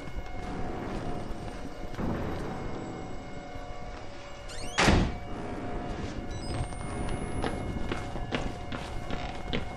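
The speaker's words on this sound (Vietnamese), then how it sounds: "Nghe cái tiếng ầm ầm này chắc chỉ có thằng béo thôi" Heavy thudding footsteps of the fat pursuer in the horror video game Outlast 2. One loud, close thump stands out midway over a steady rumbling background.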